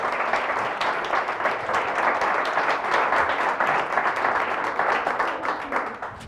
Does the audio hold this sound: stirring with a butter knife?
no